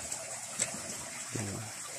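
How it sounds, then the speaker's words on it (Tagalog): A small stream trickling outdoors, a soft continuous burble of running water heard close by, with a brief low rustle or thump partway through. "Ito yung sapa."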